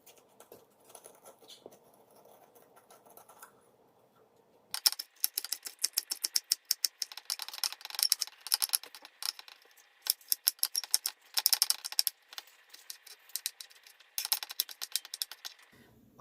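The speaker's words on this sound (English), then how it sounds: "core and deseed this pepper and cut it into 1/2-inch pieces" A knife chops a cored, deseeded poblano pepper into half-inch pieces on a board, giving a quick irregular series of crisp cuts after a few quiet seconds.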